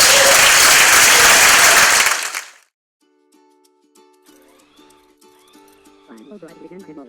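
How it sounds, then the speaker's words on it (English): Loud, dense applause from a crowd at the Hippo.Connect 2015 conference in Boston fills the first two seconds and then cuts off abruptly. Faint music follows. "Round of applause for Hippo.Connect."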